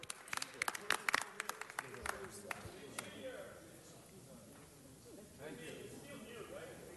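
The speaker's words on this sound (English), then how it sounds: "Let's give them another round of applause." Scattered clapping from a small audience at a Special Olympics committee gathering, a burst of sharp claps over the first two seconds thinning into soft murmuring room noise, with people talking faintly in the background.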